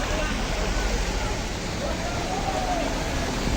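Flash-flood river water rushes past a bamboo blockage clogging a channel in Ngroto, Pujon, a loud, continuous roar of flowing water with faint voices mixed in.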